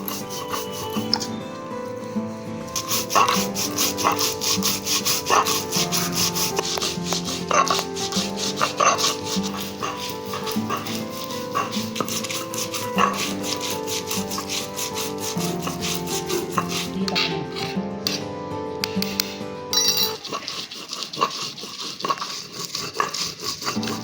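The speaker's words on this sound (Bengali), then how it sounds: "তার জন্য আমি এটা পাটায় বেটে নিচ্ছি।" Spice paste is ground on a stone slab with a grinding stone, a continuous rough scraping and rubbing with rhythmic strokes and knocks, close and steady for the whole stretch, with no voices.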